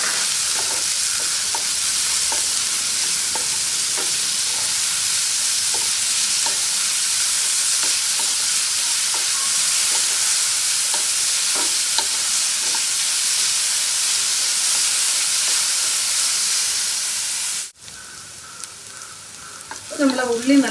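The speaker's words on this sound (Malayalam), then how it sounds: "നമ്മളെ ഉള്ളി നല്ലപോലെ വഴഞ്ഞിട്ടുണ്ട്." Onions sautéing with a pinch of salt for a dried red chilli and onion chutney, a dense continuous sizzle with faint stirring clicks, close and steady for most of the stretch before dropping away abruptly.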